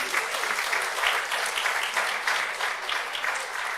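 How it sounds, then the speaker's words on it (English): A public audience breaks into steady applause, a dense wash of clapping that holds evenly through the whole stretch at moderate loudness, heard on its own without talk. "So I'll ask you to give these three people a round of applause."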